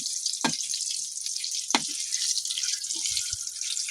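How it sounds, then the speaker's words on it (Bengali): Potatoes fry in a pan for khichuri, a steady close sizzle with a few sharp crackles and spits, no voices. "এখানে একটু আলু ভেজে নিচ্ছি"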